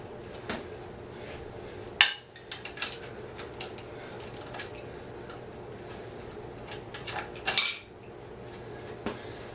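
Faint ratchet clicks and a few sharp metallic clanks come from a socket wrench working a 14 mm bottom shock bolt on a Honda CL160 motorcycle, close by over a low background hum.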